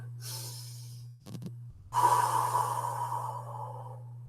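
One deep cleansing breath drawn in and let out slowly through the mouth, close and fairly loud over a steady low electrical hum, with a brief pause before a long airy exhale.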